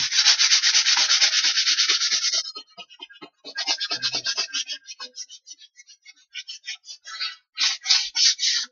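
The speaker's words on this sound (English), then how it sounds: "We sand it all very well. The side, the roundings too." Wooden kitchen drawer fronts being hand-sanded, including sides and rounded edges: a long continuous rasping stroke, then a series of shorter rhythmic back-and-forth scrubs, close and crisp with brief pauses between.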